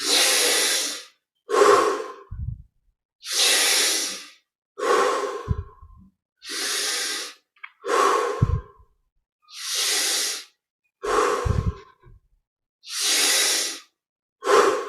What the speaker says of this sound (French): Puis on prend un peu plus d'air à chaque inspire.